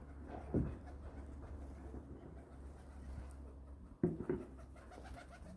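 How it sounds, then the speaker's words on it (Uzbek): A pigeon gives two low, soft coos a few seconds apart against a quiet, faintly humming background. "Osilib bo'pti kaptar bechora."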